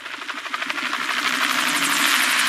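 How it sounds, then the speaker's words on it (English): A helicopter's rotor thumps steadily over a broad engine whine in Saints Row IV, loud and close, building slightly as it goes. "And the helicopter just ditches."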